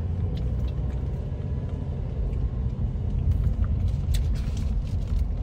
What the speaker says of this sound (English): Car coming up behind me